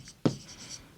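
Chalk or marker strokes on a board during a Class 10 geometry lesson on circles: a short scratchy stroke near the start and another just beginning at the end, with a quiet room between.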